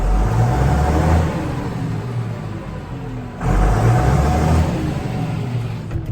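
Fendt 936 tractor engine fitted with a new exhaust, heard from inside the quiet cab: a steady low-pitched drone with a soft dip midway before the engine note swells back up.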